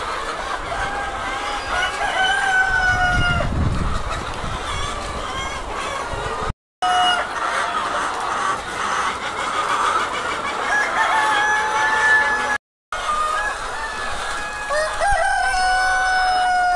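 Sonali chickens on a poultry farm cluck and crow continuously, many birds calling over one another, loud and close, with a rooster's crow rising clearly above the flock.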